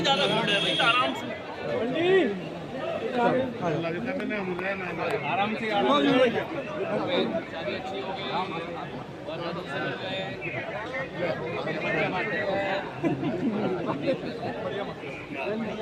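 A crowd of party workers keeps up continuous chattering, with many overlapping voices forming a steady, fairly loud hubbub throughout. No single voice clearly dominates.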